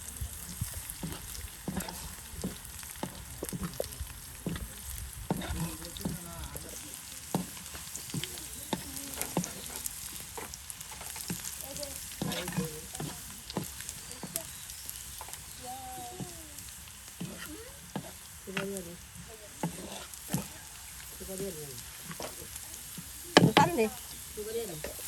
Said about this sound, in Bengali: এই বাগারে সেই জর্জরে ভাজা শাকগুলো দিয়ে দেওয়া হবে আর এটি করে কিন্তু ডাঁটা শাক ভাজা হয়ে যাবে